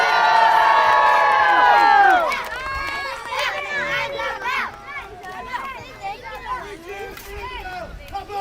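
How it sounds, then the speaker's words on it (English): A crowd of lords and ladies cheers for knights at a tournament. A loud swell of shouting opens the clip, then settles into busy, excited chatter and scattered yells from many voices, children among them. "Lords and ladies, a cheer for your favorite knights!"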